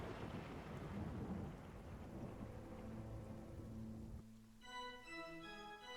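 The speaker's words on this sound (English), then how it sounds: "I don't hear a song, I just hear thunder." Thunder rumbles deep and heavy through steady rain in a tabletop fantasy game's castle setting, later giving way to a few faint musical tones, with no voices.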